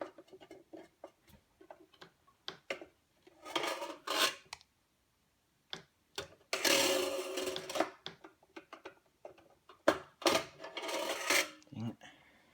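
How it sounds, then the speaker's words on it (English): Screwdriver scraping, clicking and rattling around inside a G5 computer case, in irregular bursts of metallic tapping and grinding with short pauses, close and fairly loud. "I'm just going to wiggle the screwdriver around until I hit something."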